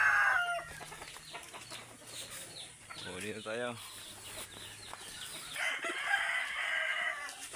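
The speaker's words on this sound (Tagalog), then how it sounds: "Tapos dito naman mo tayo mga kanter. Bantam. Tapos yan, mga manok panabong." Bantam and fighting roosters in a backyard flock crow and cluck, one clear crow rising mid-clip among scattered clucks and bird calls, with someone speaking briefly near the start.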